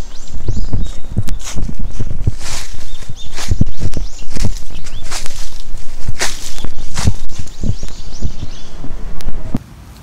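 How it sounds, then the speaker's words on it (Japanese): Dry fallen leaves are kicked and scuffed outdoors, giving loud repeated crunching and rustling bursts close to an iPhone with an external condenser microphone, with faint birdsong in the background. "ちょっと落ち葉も蹴ってみるか、"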